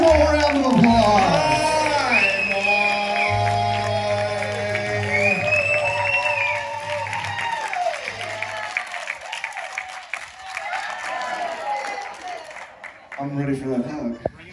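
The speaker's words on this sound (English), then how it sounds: "Let's give him a round of applause." A karaoke crowd claps and cheers after a performance, the sustained applause rising over the fading music, with people speaking nearby.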